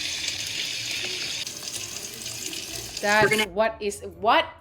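Water poured into a bowl of powdered eggs runs as a steady broadband splash for about three seconds, followed by a voice talking up close.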